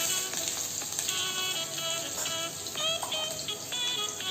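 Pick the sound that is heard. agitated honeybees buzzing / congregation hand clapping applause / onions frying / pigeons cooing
onions frying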